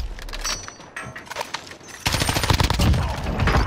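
Rapid bursts of M4 rifle gunfire in Call of Duty: Warzone, crackling fast shots that grow louder and denser halfway through, with game noise around them.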